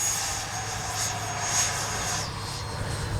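A Freewing 90mm F-22 V2 radio-controlled model jet in flight, giving a steady, loud turbine whine and roar with a low rumble, nearby and continuous, with no voices.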